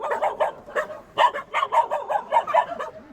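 Several dogs bark in quick, irregular bursts, fairly close and loud, with some yips mixed in.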